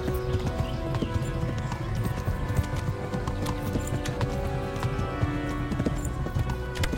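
A horse canters in a medieval video game, its hooves making a steady, rapid clip-clop rhythm that stays close and loud throughout, with tack and ambient game sounds mixed in and no talk.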